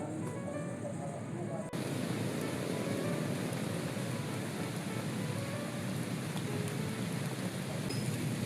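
Rain falls during the rainy season as a steady, dense hiss that thickens into a heavier downpour partway through, with a voice speaking over it.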